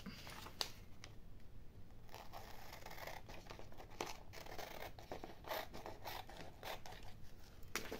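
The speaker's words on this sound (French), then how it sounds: "j'ai préparé donc mes petites images que je vais découper là avec vous." Scissors snip small paper images for a junk journal, a series of short crisp cuts and light paper rustles close by, with no talking.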